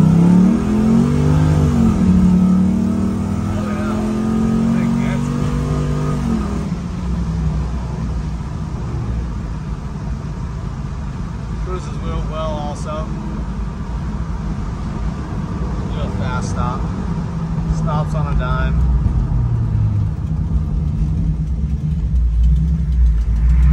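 A 1967 Camaro restomod's LS3 V8 rumbles steadily, then rises in pitch as it kicks down and accelerates hard, with a voice talking over the loud drone; the exhaust has a leak.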